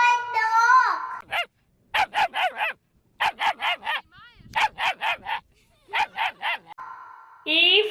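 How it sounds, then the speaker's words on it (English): A dog barks in rapid, loud bursts of three or four yaps, repeated several times between pauses, with tonal music from a children's alphabet song at the start and end. "D for dog."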